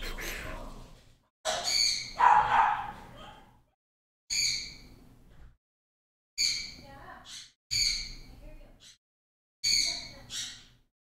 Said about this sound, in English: My bird is awfully excited about something.